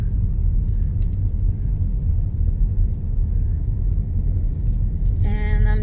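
A car drives along a rural Arkansas road, giving a steady, close low rumble that runs unbroken from start to finish, with a short tonal chime-like sound near the end.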